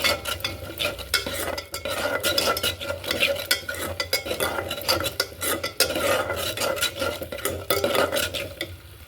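A spoon repeatedly scrapes and clanks against a pan as chili powder, coriander powder and spices are stirred into an okra curry base, a busy rhythmic clatter over a low sizzle, close and steady with no talking.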